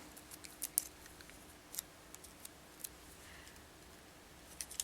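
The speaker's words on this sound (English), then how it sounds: "And then cut off this thread." Small scissors snipping beading thread, with a few faint, sharp metallic clicks spread over a quiet background and a brief cluster near the end. No talking is heard.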